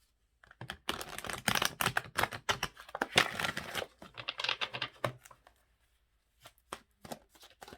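A deck of Power of Surrender Oracle cards is shuffled close up, giving rapid, crisp riffling and flapping bursts, then a few soft isolated taps as cards are pulled, with no voice.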